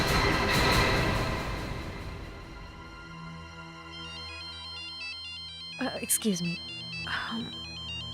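A mobile phone plays a stepped electronic ringtone melody, moderately loud, starting partway through and continuing under a brief spoken line, after a swelling musical sting at the start.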